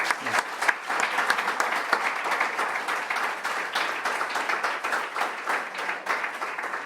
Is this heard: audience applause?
yes